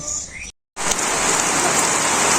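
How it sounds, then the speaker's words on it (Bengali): Heavy rain pours down in a steady, dense hiss over a Bangladeshi village during a storm, broken by a brief moment of silence before the downpour resumes loudly. "বৃষ্টি নামছে প্রচুর পরিমাণে বৃষ্টি"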